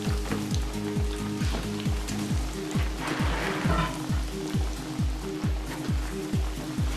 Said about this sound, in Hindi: अब हम बाकी के 2 पीसेस फ्राई कर रहे हैं